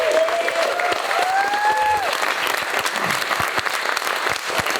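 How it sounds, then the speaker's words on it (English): Crowd applause during a trip in the Scottish Highlands, a steady wash of clapping with a brief whistle or rising tone early on, fairly loud and continuous. "Guys, give Matt a round of applause."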